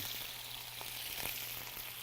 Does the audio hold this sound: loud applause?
no